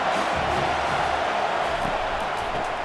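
A stadium crowd roars in a college football video game between USC and Washington, a dense, continuous wash of cheering and noise at steady loudness, with a commentator's voice faintly beneath it.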